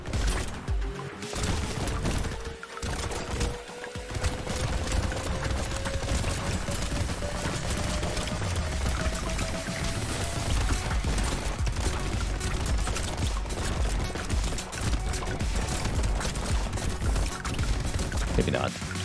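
Minigun fire in the Brotato arena game, a continuous stream of rapid shots layered with game effects, running steadily throughout at a moderate level beneath a speaking voice.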